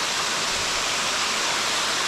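Washpen Falls in New Zealand roars as a steady, broadband wash of falling water, loud and constant with no voices over it.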